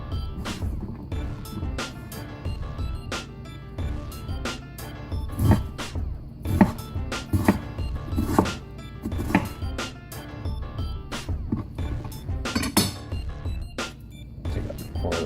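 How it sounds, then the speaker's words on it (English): Knife chopping vegetables on a cutting board while a spicy shrimp ramen stir fry is prepared, a run of close, irregular sharp taps against low kitchen rumble, with no talk. "I just want to get like a small cut on my vegetables"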